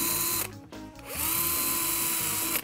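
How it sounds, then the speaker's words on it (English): A power drill whines sharply and bores into timber, revving up and bogging down in two short bursts, close and loud. "mark up all our timber and drill our holes exactly according to the plan"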